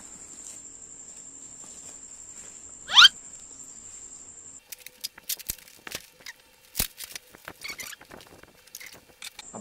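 Blunt scissors snip through a thick bubble-wrapped package, the cutting heard as a run of sharp, irregular crinkles and clicks close up after a quieter stretch with one brief squeak.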